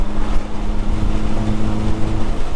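A Honda Civic's engine and exhaust droning steadily while driving, a low, even hum buffeted by wind noise on the microphone.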